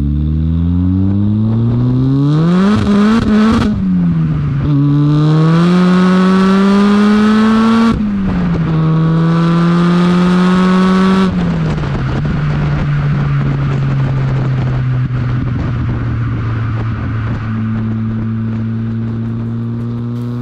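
A Volkswagen Golf MK1 GTI fitted with a 1.8 turbo engine taken from an Audi TT revs hard and loud, climbing in several rising pulls, dropping back between them, then settling into a steady high drone.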